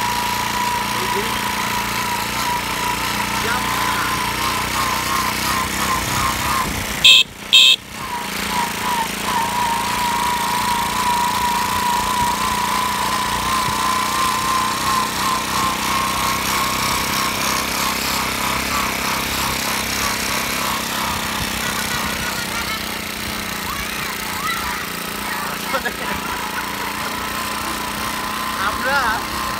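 A Japanese-engined motorcycle runs steadily with a buzzing, high-revving engine note that stays loud and continuous, broken by a brief sharp knock partway through.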